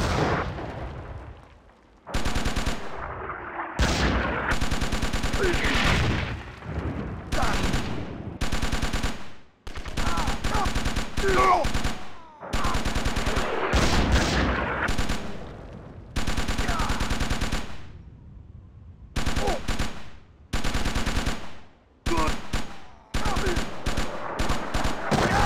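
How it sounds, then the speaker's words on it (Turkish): Automatic weapon fire in a World War II Battle of the Bulge game comes as loud, sharp bursts of rapid gunshots separated by brief silences, with heavy booms mixed in. "Şimdi şu oto silah geçiyoruz."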